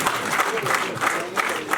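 Audience applause at a Rwandan ceremony, a broad, steady wash of clapping with slight surges, filling the short moment without any voice over it.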